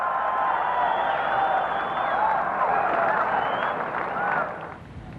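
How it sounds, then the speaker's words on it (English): A golf gallery roars after a tee shot at a 1991 tournament, a broad sustained crowd cheer with scattered whoops and clapping that fades toward the end. "Listen to the crowd reaction to that."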